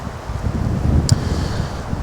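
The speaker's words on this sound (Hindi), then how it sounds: "हल्की हल्की हवा चल रही है।" A light, cool wind blows outdoors beside a quietly flowing river, a soft steady rush with one brief faint click partway through and no voices.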